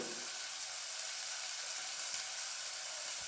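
Onion and green chilli sizzle in hot oil, a constant, close hiss with light crackling that stays even for a few seconds.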